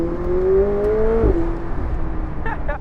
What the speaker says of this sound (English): Just that little bit of throttle and it's already wanting to go